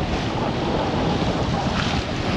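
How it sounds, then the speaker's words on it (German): Strong steady wind buffets the microphone as a sailboat runs in about 20 knots of breeze through the channel between Tahaa and Raiatea in French Polynesia, with waves and rushing water beneath a constant loud roar. "Endlich mal wieder richtiges Segeln. Bei 20 Knoten Wind"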